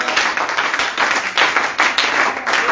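A church congregation claps and applauds during a Sunday service in Côte d'Ivoire, with dense, steady clapping throughout, loud and close.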